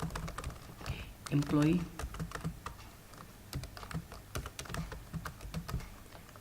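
Rapid, uneven clatter of a computer keyboard being typed on, close and continuous, with someone briefly speaking over the keystrokes.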